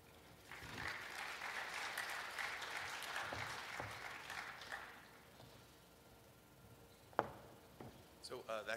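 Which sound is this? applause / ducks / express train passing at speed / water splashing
applause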